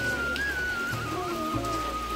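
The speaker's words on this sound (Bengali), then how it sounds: "অনেক দিন পরে বৃষ্টি হচ্ছে দেখো তাও জোরে বৃষ্টি না কোন রকম হালকা হালকা বৃষ্টি হচ্ছে" Light rain falls steadily outdoors, a soft, even patter and hiss with no breaks, joined by a faint thin whistle-like tone and a low rumble in the background.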